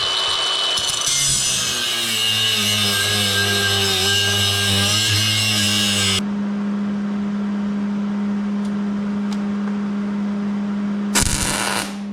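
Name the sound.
cutting off metal wheelie bar parts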